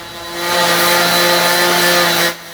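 A power sander works over the surface of an old workbench in a loud, close, droning whine with a steady tonal hum. It swells up, holds for about two seconds, then drops off abruptly.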